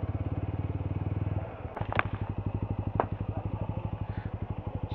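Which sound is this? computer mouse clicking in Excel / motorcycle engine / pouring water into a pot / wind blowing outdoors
motorcycle engine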